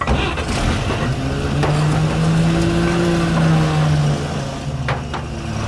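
An old car engine, brought to life with starting fluid, runs loud and close with a sustained drone that swells and holds as it revs, then eases back, with no voices.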